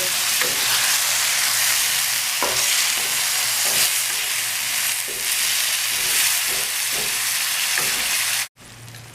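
Tandoori-style chicken masala being stirred in a frying pan on a tawa: a loud, continuous sizzle with a spatula scraping rhythmically through it, close by, cutting off abruptly just before the end.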